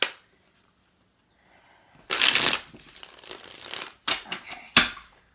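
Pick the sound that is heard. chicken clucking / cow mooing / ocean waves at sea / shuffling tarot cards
shuffling tarot cards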